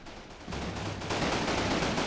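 Artillery fire in the wartime strategy game Combat Mission Final Blitzkrieg, a dense, continuous roar of blasts and rumble that swells louder partway through, with no voices.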